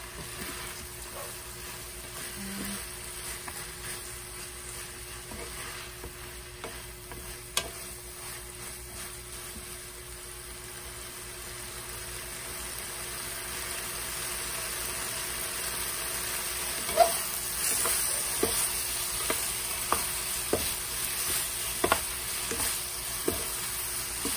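Sayote tops being stir-fried in a pan, a steady low sizzle with occasional scraping stirs that grows slightly louder over the stretch.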